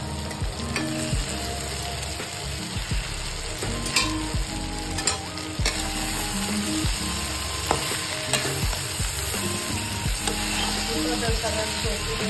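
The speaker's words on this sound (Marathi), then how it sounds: "आता आपण ह्याच्यामध्ये भेंडी ऍड करणार आहोत आणि भेंडी आपण ही जी आहे वाफवून घेतलेली पहिली, त्याला 10 मिनिटांसाठी कमी गॅसवर शिजवून घेणार आहोत" Steamed okra (bhindi) fries in a pan over low gas, with a continuous close sizzle broken by frequent scraping stirs and clinks of a spatula.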